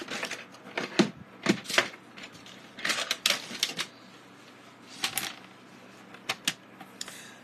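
Blue cardstock being cut to size for a pop-out block fun fold card, giving a series of sharp, close slicing and snipping strokes in an uneven rhythm.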